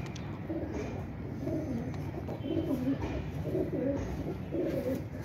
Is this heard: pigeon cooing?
yes